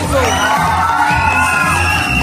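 Guests at an 18th birthday celebration raise a loud, continuous wall of cheering, shouting and whooping. Children's voices stand out high in the mix throughout.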